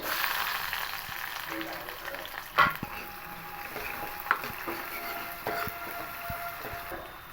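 Onion and green chili frying in hot oil for a chicken liver gravy, a steady close sizzle with a few sharp clicks of utensils against the pan.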